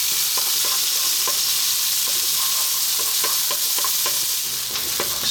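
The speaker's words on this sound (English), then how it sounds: "now we're going to add our onion, cut nice and small. As you can hear, on a lively heat." Chopped onion frying in a pan over lively heat, a steady loud sizzle running throughout with scattered clicks and scrapes of stirring, close and alone.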